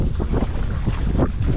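Heavy wind buffets a microphone outdoors near a boat on open water, a continuous low rumbling roar with gusty surges swelling and easing throughout, loud and close with no talking.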